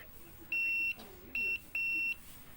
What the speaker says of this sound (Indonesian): Ya, buzzer menyalakan.